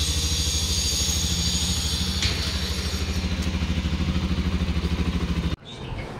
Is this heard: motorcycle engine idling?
yes